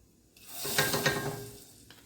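Hot oil tempering with chilli bursts into a sizzle as it is poured over cooked greens, a sharp hiss that swells quickly, holds for about a second, then fades.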